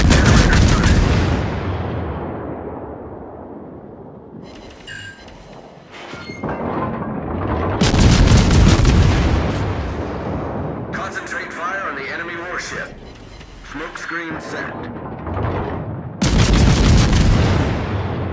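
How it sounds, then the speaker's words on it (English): Naval guns fire in the World of Warships video game, making heavy booms and rumbling blasts that come in repeated bursts with quieter gaps between them. "Concentrate fire on the enemy warship."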